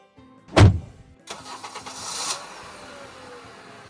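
In a video game, a hotwired car engine cranks with a loud thump, catches, then revs briefly before settling into a steady idle, heard up close.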